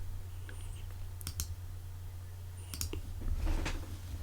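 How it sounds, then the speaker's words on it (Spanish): A computer mouse clicks while a photo is retouched, sharp close clicks in small pairs and clusters spaced over a few seconds against a low steady hum. "Ya veis los clics."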